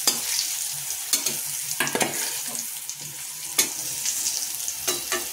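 Fish fries in a pan on a home stove, a steady sizzle broken by sharp, close clatters and scrapes of stirring at irregular intervals.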